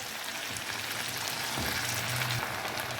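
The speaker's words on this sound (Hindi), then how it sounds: "चिकन को अच्छे से हमने भून लिया" Chicken pieces for pickle fry in a pan, a steady close hiss like light rain with a low hum in the background and no speech.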